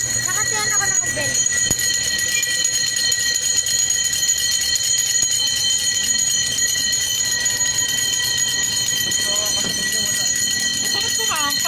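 A bell rings during a religious feast-day motorcade, sustained bright ringing tones running throughout, with people talking over it and occasional clip-clop-like knocks.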